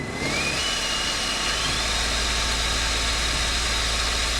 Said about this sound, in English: Yep, that is what a turbocharged Escalade sounds like in Forza Horizon 2.